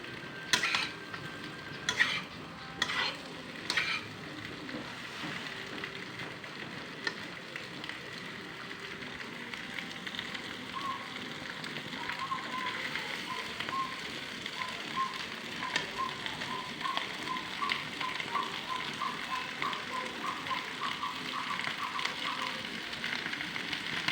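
Potato fry stirred in a pan, opening with a few sharp metallic clinks, then a long stretch of quiet, steady sizzling and scraping that grows slightly busier toward the end.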